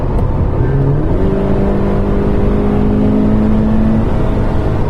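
A car engine revs hard as the gearbox drops down, the pitch jumping up and then holding a loud, steady roar.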